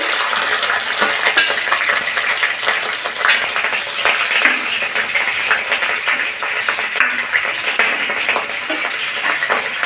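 Mustard seeds, cumin and chilli tempering in hot oil, a loud continuous crackle and sizzle with spattering pops and some utensil clinks, close by and with no talking.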